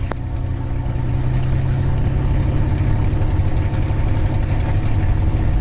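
A P-51 Mustang named Crazy Horse sits idling before takeoff, its piston engine giving a steady, loud low rumble that continues evenly throughout without any voices.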